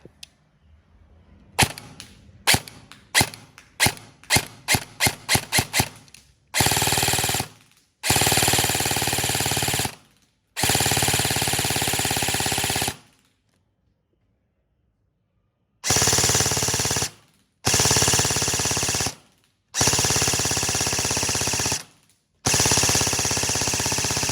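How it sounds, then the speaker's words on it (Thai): E&C 642 S4 airsoft rifle with a wound high-capacity magazine, firing a string of rapid single shots, then several loud, sustained full-auto bursts separated by short pauses. "เวลาเราปั่นเราแม็กมันสูงจะดังแบบนี้นะครับ"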